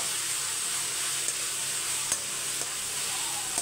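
Ginger and garlic sauté in a hot pan with a steady, close sizzle, broken by a few faint scrapes of a stirring spoon.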